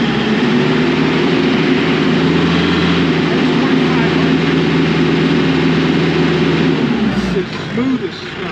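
A Kioti RX7320 power shuttle tractor's engine runs steadily after a restart, a loud, even low rumble holding constant before dropping off near the end.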